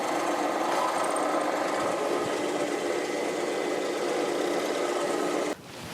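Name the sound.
drilling out a hole to tap for an M8 screw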